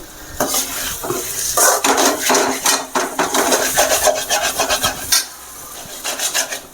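Cluster bean and egg poriyal being stirred and broken up in a pan, loud close scraping and rubbing strokes of a spatula in an uneven rhythm with a light sizzle underneath.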